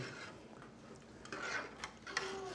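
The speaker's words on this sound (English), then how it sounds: "Now I'm going to stir that in there." Cayenne pepper hot sauce being stirred into a sauce, with quiet, irregular scraping and light clinks of a utensil against the pot, alongside a few brief sharper taps.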